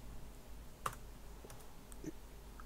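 A couple of isolated key presses on a computer keyboard, sparse and fairly faint against a quiet room hum.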